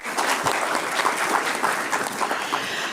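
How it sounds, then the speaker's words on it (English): A city council meeting audience applauds for Julianne, a dense, steady round of clapping that holds for about three seconds with no voices over it. "Give her a big round of applause."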